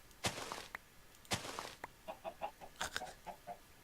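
Chickens clucking in the Minecraft video game, with a few sharp bursts followed by a run of short, quiet rhythmic clucks, faint and alone with no talking.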